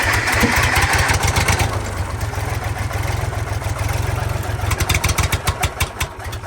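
A John Deere 1020 three-cylinder tractor with freshly adjusted valves and a new manifold cranks and catches, then settles into a loud, close, chugging idle whose rhythmic pulses grow more distinct toward the end.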